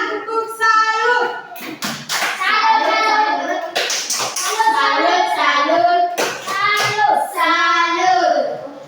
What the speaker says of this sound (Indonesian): Ulang, tepuk salut.